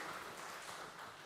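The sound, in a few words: congregation applauding church members celebrating birthdays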